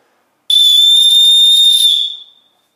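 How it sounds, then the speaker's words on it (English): A single loud, shrill blast from a small whistle on a survival bracelet, held for about a second and a half, then cut off, with silence on either side. "When you clip it off, you've got a whistle."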